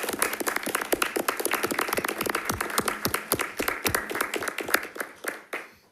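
A school district board meeting audience applauds a student speaker: dense, steady clapping from many people in a room, holding for about five seconds and then tapering off into a few last claps.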